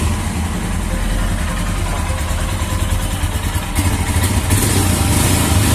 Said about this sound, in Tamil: இந்த வண்டியோட சவுண்ட் ரொம்பவே நல்லா இருந்துச்சு.